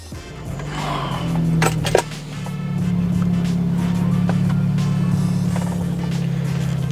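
A BMW F30 engine cranks and starts, then settles into a steady, even idle heard from inside the car, with a few clicks during the start.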